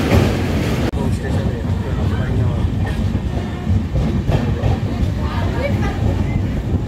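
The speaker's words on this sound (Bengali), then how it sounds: "সামনের ব্রিজ দিয়ে আরেকটা ট্রেন যাচ্ছে, আর আমরা যাচ্ছি আরেক ব্রিজ দিয়ে" Loud, continuous rumble and rhythmic clatter of a moving train crossing a river bridge, heard from aboard a passenger train on a neighboring bridge, with wind buffeting throughout.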